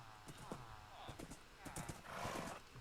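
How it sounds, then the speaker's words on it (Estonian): Galloping horse hooves beat in a quick clip-clop rhythm, with a neigh mixed in, under lively overlapping talk. "Oo, kuidas kappab hobune."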